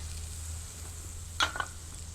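Chopped ginger, garlic and green chilli fry gently in a pan for a restaurant-style navratna korma: a soft, steady sizzle under a low hum, with a brief metallic clink partway through and no voices.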